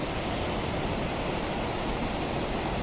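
Glacier meltwater rushes down a mountain stream in Niti Valley, a steady, dense, roaring flow of water heard up close, constant in loudness throughout with no voices.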